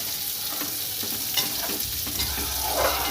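Egg curry with garam masala paste being stirred in a pan, soft scraping strokes of a spoon over a low, steady simmering sizzle, close and fairly quiet, with no voices.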